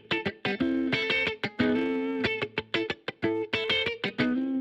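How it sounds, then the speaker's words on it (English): A guitar played through a Space Designer amp cabinet simulation on a bus send, giving a distorted, effected tone in short chordal stabs and sustained notes with clear gaps between them. "I've got two instances of Space Designer. First is an amp cabinet."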